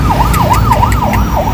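An ambulance siren wails behind a bus in heavy traffic on Main Avenue near SM North, rising and falling in a steady repeating cycle over a constant low road rumble.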